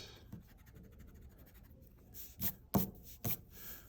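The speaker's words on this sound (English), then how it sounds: "So I'm gonna erase that." A pencil drawing is erased, giving soft faint scratching and rubbing at first, then a few quick firmer scrubbing strokes of the eraser on paper near the end, close up.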